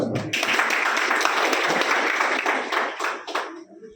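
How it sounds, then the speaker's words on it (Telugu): A crowd claps at a compensation cheque distribution event for farmers, producing a dense, loud burst of applause that goes on for several seconds before thinning out and stopping. "అందరికి చప్పట్లు కూడా ఒకసారి ఎంత కొట్టండి ఒకసారి"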